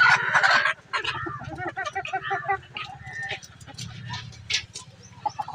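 Desi chickens on a poultry farm cluck and squawk loudly in a busy flock, with overlapping calls and a steady low buzzing hum underneath.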